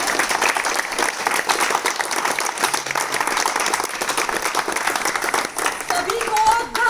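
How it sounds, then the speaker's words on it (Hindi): A crowd at a gathering in Nirankari Colony breaks into sustained, loud applause, dense clapping filling the space steadily, with some voices rising near the end. "हमारे लिए सभी के लिए जोरदार तालियों से"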